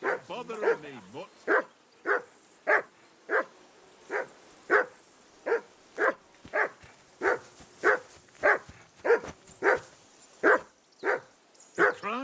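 A dog barks over and over in Kingdom Come: Deliverance II, sharp evenly spaced barks about every half second, loud and near, with a few whimpering yips early on.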